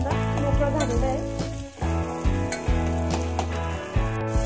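Sliced onion sautéing in a pot for khichdi, a steady frying hiss with a sustained humming tone underneath and a few stirring scrapes, close and moderately loud.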